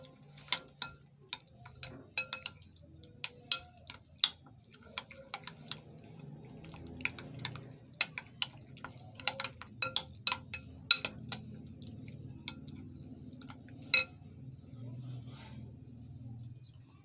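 Egg being mixed into chicken pieces in a bowl, heard as irregular sharp clicks and wet taps scattered over a low background, with a voice talking quietly underneath.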